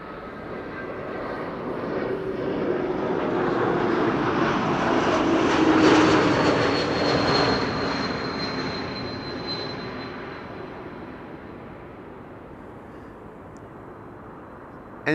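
A KLM Embraer 195 E2 airliner arrives at Amsterdam Schiphol Airport, its engine roar building steadily to a loud peak near the middle as it passes, then fading gradually into a distant rumble.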